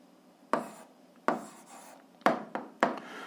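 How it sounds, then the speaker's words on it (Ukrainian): An answer is handwritten during an 8th-grade algebra lesson: five sharp, scratchy strokes, each fading quickly, sounding close and fairly loud with no talking. "І записуємо відповідь, пишемо відповідь."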